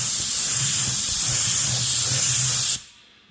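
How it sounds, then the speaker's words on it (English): Steady, loud hiss of a paint spray gun making a short test spray of flake paint for a Honda Civic, one continuous burst with a faint low hum beneath, cutting off abruptly near the end into near silence. "Do a little test spray first."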